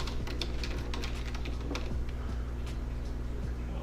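Steady keyboard typing in a Canva design session, a run of quick light clicks and taps at close range over a low constant hum, no voices.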